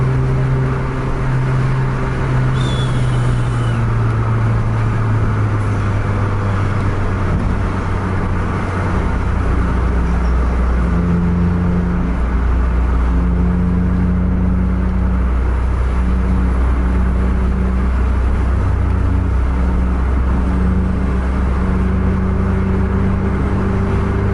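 A double decker bus races along a highway at about 110 km/h, its engine droning loud and steady with shifting pitch as it accelerates, and wind and road roar run underneath throughout.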